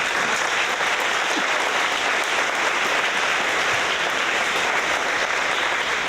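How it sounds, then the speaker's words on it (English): Steady, dense applause from a sizable crowd at a school fourth-grade awards event, clapping continuously at an even level throughout with no talking. "let's give them a round of applause"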